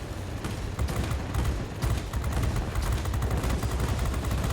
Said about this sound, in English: Finally land the 37mm cannon, which takes out his engine.